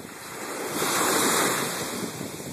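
Ocean surf washes in at Lamai Beach on Koh Samui, a continuous rushing roar that swells in the middle and eases off, with some wind noise on the microphone and no talking.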